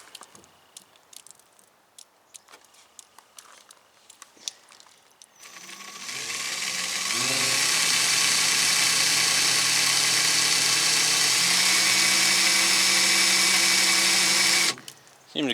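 A drill bores out a 3/16 rivet on an aluminum boat transom, starting after some handling clatter and then grinding loudly and steadily for about eight seconds, its pitch shifting slightly as the bit bites, before stopping abruptly.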